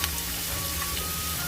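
Onions sautéing in a pan make a brief, steady sizzle with a faint background hum, close and continuous.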